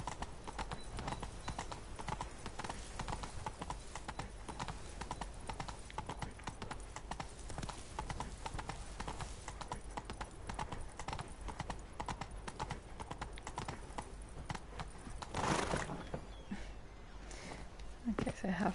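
Horse hooves clip-clopping in the video game The Witcher 3: Wild Hunt, Blood and Wine expansion, a steady quick rhythm of hoofbeats throughout, with a brief louder rustle near the end and faint talk in places.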